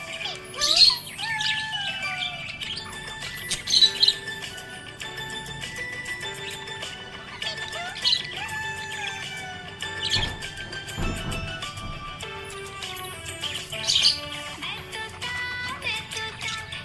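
Pet budgie parrot chirping busily, with rapid squawks, tweets and warbles in an ongoing chatter, fairly close, alongside faint background sounds and no talk.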